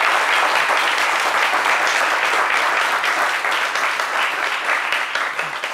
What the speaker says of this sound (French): On va vous demander d'applaudir pour l'encourager.